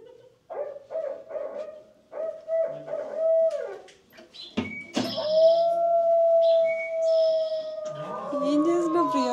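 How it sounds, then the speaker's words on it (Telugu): A wolf howls in Kinzua Bridge State Park, Pennsylvania, with long, drawn-out rising and falling tones, preceded by shorter broken calls, loud and clear against a quiet outdoor backdrop. "ఇది ఈ యానిమల్ సౌండ్, ఉల్ఫ్ సౌండ్"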